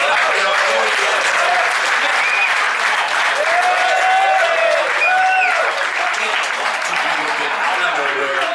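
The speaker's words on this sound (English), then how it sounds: "it does behoove us to give a raucous round of applause for Case Keenum." A crowd claps loudly and steadily, a dense wash of applause with scattered cheers that holds for several seconds.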